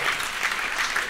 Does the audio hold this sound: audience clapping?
yes